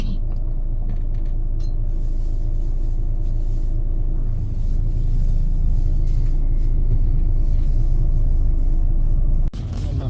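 Inside a tour bus driving onto a ferry at Rosslare, a steady low engine rumble with faint rattles and a soft knock near the end fills the clip.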